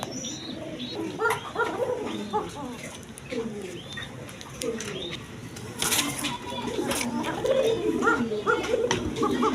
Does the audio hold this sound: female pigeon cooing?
yes